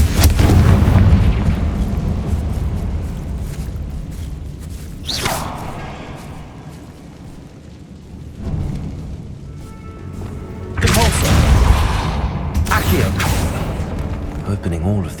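In the video game Hogwarts Legacy, the Confringo blasting spell fires repeatedly, each cast a loud booming blast with a crackling tail, landing over a rumbling game soundtrack while a character talks.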